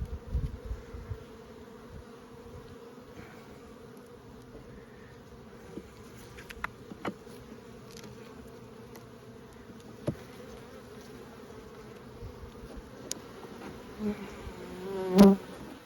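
Honey bees buzz steadily around an opened hive while frames of capped honey are handled, a low continuous drone with occasional louder passes of single bees close by, and a sharp knock near the end.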